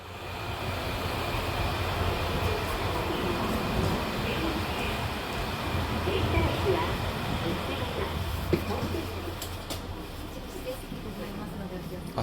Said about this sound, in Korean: 오늘 탈 열차가 플랫폼에 들어와 있습니다.